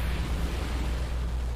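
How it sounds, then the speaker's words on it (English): A deep, sustained explosion from the Soul Eater anime, a loud wall of broadband rumble with heavy low-end roar that holds steady for the whole moment, with no talk over it. "Oh, the explosion."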